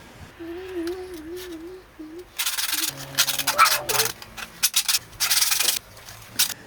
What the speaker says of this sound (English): Then I did some hand shaping with 100 grit sandpaper, then sanded everything with 150 and 220 after that.